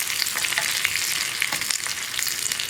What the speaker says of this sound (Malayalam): ഉള്ളിയൊക്കെ ഒന്ന് കുക്കായി തുടങ്ങുമ്പോൾ നമ്മുടെ കറിവേപ്പിലയും കൂടി നമ്മൾ ചേർത്ത് കൊടുക്കണം.